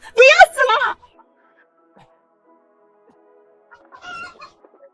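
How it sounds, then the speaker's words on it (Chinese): Two large feed-raised roosters give a loud, close burst of squawking clucks, then fall quiet before softer clucking returns near the end. "这2只大公鸡都是现代人工饲料鸡"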